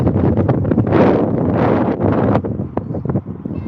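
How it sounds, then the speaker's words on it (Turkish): Strong wind buffets the microphone in heavy, rumbling gusts that ease off toward the end, with no one speaking. "hava biraz rüzgar var."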